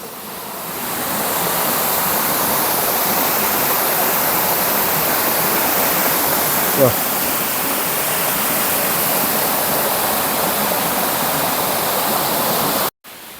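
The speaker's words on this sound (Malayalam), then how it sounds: "മീൻമുട്ടി വാട്ടർഫാൾസിലാണ് ഉള്ളത്." Meenmutti waterfall near Banasura in Wayanad roars steadily as a broad, constant rush of falling water, close and loud throughout, with no talking.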